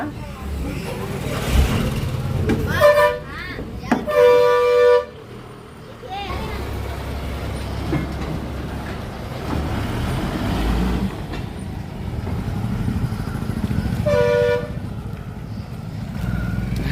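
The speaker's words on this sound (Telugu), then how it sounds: "బస్సు అయితే బయలుదేరింది" A departing bus rumbles low as it pulls away, sounding two short horn toots early and another near the end, while people talk nearby.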